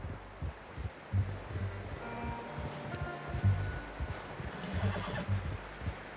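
In Red Dead Redemption 2, a horse whinnies and snorts over rhythmic hoof clops and rustling, the low thuds recurring through several seconds at moderate loudness with no talk over them.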